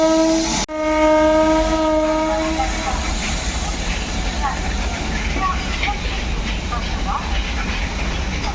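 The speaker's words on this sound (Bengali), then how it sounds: "মালগাড়ি ঢুকছে" A goods train entering Kashimbazar-area railway station near Nashipur rail bridge, its horn blaring loudly at first, then cutting off as the heavy rumble and clatter of rolling wagons continues close by, with people talking over it.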